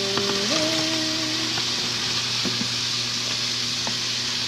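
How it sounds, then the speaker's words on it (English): Bacon frying in a cast iron pan, a loud, steady, dense sizzle running unbroken throughout, with a faint tonal hum and a few small clinks. "So while that bacon is frying"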